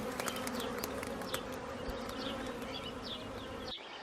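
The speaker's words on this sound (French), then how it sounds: "les abeilles se développent et se multiplient" Honeybees buzz densely around a hive, a steady, faint swarm hum with individual bees whizzing past close by, ending in a brief knock.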